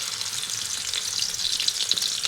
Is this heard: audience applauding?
no